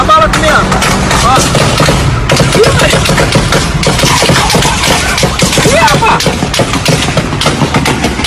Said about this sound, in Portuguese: Foi muito tiro